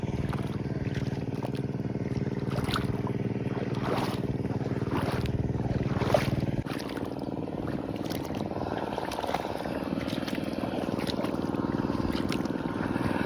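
Handcarts are driven nearby, making a loud, steady mechanical rumble and drone that runs without a break through the whole stretch, with faint scattered knocks on top.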